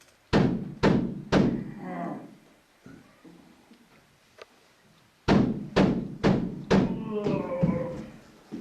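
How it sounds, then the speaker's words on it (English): Knocking sound effect in a Macbeth stage performance: a group of three heavy thuds, then quieter speech, then another run of four or five loud knocks, echoing in a hall. "a knocking indeed"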